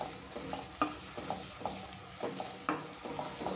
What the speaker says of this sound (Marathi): मसाले छान असे परतून घ्यायचे आहेत मीडियम फ्लेमवर, छान तेल सुटेपर्यंत